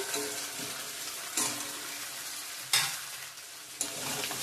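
Meat is stirred and fried in oil, giving a steady sizzle broken by several sharp scraping stirs and spoon knocks against the pan, close and clear with no speech.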